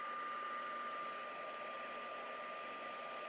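A heat tool blows a steady, even whir while melting gold Wow embossing powder on a card, the airflow hum constant and close throughout with no talking.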